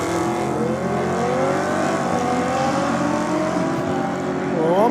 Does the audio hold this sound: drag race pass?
yes